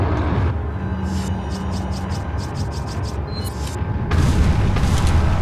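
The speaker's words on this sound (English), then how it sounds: "I'm using all my fucking bullets on this guy." Gunfire and booms in Resident Evil 4, a dense, loud barrage of game shots and impacts that runs throughout, with a short burst of repeated sharp reports in the middle and a heavier blast near the end.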